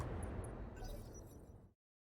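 An artillery shell explodes in the video game RogueTech, giving a faint, rumbling low boom with debris crackle. The boom lasts under two seconds and then cuts to silence.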